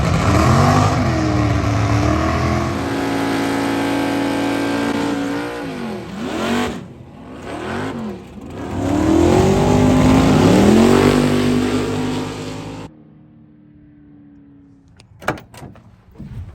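Camaro drag racing down the track, a loud engine roaring and revving hard through rising gear pulls, briefly dipping between shifts, then cutting off abruptly to a quiet idle with a few sharp knocks at the end.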